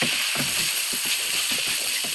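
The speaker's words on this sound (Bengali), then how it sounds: "খেয়াল রাখতে হবে যেন কড়াইয়ের মধ্যে লেগে না যায়। অনবরত নাড়তেই হবে।" Drained rice is stirred nonstop in a kadai after ginger and garlic, making rhythmic scraping and clicking strokes over a steady loud frying sizzle, with no voices.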